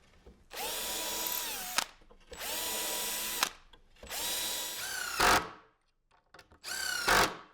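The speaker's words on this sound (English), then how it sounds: "So pre-drill, and I'll run some screws in." A power drill whirs in several steady bursts, each lasting over a second, with short grinding squeals as screws bite into wood of a bench.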